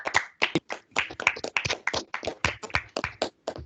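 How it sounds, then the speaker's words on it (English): Small group of people clapping after a low brass band masterclass, sparse and close, with individual hand claps clearly separated in an uneven rhythm. "Let's give a round of applause, everybody."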